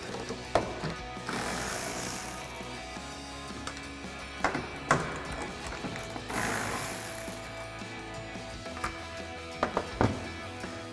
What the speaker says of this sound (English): we can take an 8mm socket and remove our 2 bolts